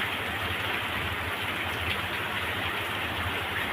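Live rain falling during a heavy monsoon downpour, a dense, steady hiss of rain with no gaps.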